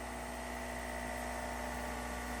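A wood lathe spins a spindle blank at roughly 3,600 RPM, giving a steady, continuous whine and hum with an even drone that holds unchanged throughout, with no voices.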